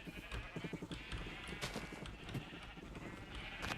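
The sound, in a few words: sheep bleating in a Minecraft server video game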